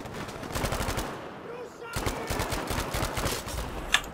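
Bursts of rapid automatic fire from a medic's gun in Battlefield V, repeated clattering volleys at moderate distance with a short pause between them, mixed with game ambience.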